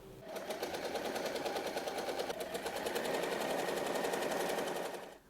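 A sewing machine stitches around the back of a tote bag lining, running in one steady, rapid mechanical buzz for about five seconds before stopping, with no talking.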